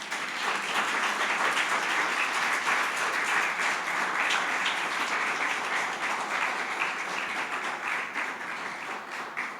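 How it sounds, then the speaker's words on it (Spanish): A church congregation claps and applauds in praise, a steady dense wash of clapping that holds evenly throughout with no pause. "Dale un aplauso al Señor."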